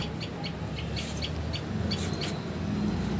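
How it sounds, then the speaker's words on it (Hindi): Small birds chirp in a home garden, a series of short, high, bright calls repeating every fraction of a second over steady low background hum, moderately distant and fairly faint. "मैं हमेशा सुनवाती हूँ अपने गार्डन में चिड़ियों की आपको चहक की आवाज़ कितनी अच्छे से आती है, ये चहकाने की आवाज़।"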